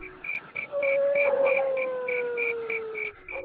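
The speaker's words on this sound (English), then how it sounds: "with wolves howling in the background" Wolves howl in the distance behind a campfire gathering. One long, faint, sliding howl carries over a steady pulsing insect-like chirp, and there is no talk.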